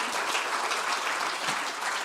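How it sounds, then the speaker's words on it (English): Audience applause at a corporate summit, a dense steady burst of clapping from a large crowd, loud and close, with no gaps. "I didn't hear a very loud clap for this lady"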